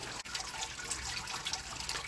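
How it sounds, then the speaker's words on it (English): Sparge water trickles and drips steadily through a wheat beer grain bed inside a Karlstein Mundschenk XXL mash tun, a soft continuous liquid patter heard close and alone. "There you can hear the first stage of the sparge happening."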